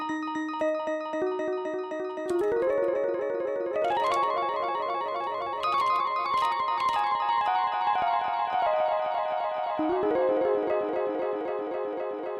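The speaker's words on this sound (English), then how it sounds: "that the toy engine that comes on the Digitakt" Toy physical-modeling engine on an Elektron Digitakt playing a bouncy, plucky synth line, with a steady stream of pitched notes stepping up and down for about twelve seconds, alone and up front.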